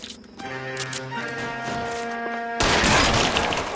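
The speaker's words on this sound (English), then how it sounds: "Shotgun." Shotgun fire in the L.A. Noire video game on PS4: after a stretch of steady tonal game sound, a loud, harsh blast erupts and leaves a dense wash of noise to the end.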